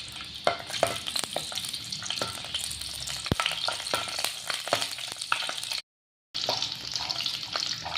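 Cashews, almonds and raisins fry in ghee with a steady crackling sizzle and clicks of stirring, loud and close throughout, broken by one short gap of silence near the end.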